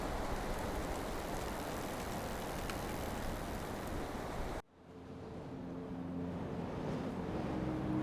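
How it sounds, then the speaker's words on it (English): Strong wind roaring at the Mont Ventoux summit, buffeting the microphone loudly and continuously, cutting out abruptly midway and then returning as a lower, steadier rush. "when it opens up, you can feel the wind"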